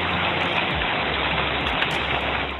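Steady rain falls in Rawalakot, a dense, even hiss that stays loud and close throughout with no voices, a faint low rumble running underneath.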